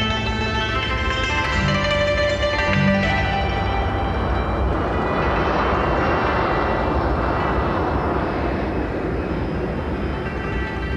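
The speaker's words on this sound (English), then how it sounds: "The Airbus A340. 4 engines for long haul." Airbus A340 four-engine long-haul airliner, its engines a loud, steady broadband roar with faint tonal whines early on, sustained throughout with no voices.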